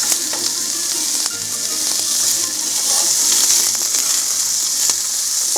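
Chopped onion, one large or two small, sizzles steadily in a hot pan as a pirozhki filling cooks, with a dense continuous hiss and occasional stirring scrapes, close and fairly loud, no voices.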